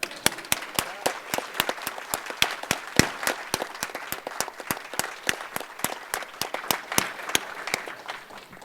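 Sparse, sharp claps ring out steadily from an audience marking Justice Berger's birthday, forming a thin, evenly paced round of applause with no talk over it.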